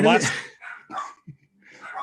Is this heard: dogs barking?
yes